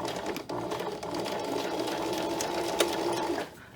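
Sewing machine stitching a seam in knit fabric for a dress, a steady rapid mechanical whir held at an even pace, close and clear, stopping at the end.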